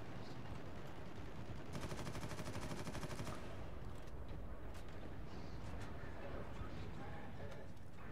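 Rapid automatic gunfire in Warhammer 40,000: Eternal Crusade rattles in a dense burst, followed by scattered single shots and impacts, with a player talking over the combat noise.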